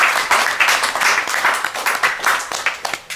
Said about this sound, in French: Serval, on peut l'applaudir.